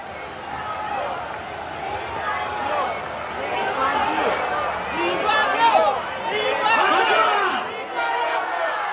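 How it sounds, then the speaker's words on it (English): Dense crowd noise of many voices calling out and shouting with emotion along a state funeral procession route for Lee Kuan Yew, a continuous swelling babble that rises and falls without pause. "Very moving images and sounds of crowds shouting emotionally, Mr. Lee Kuan Yew."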